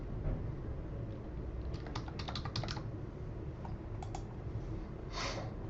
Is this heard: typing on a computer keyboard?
yes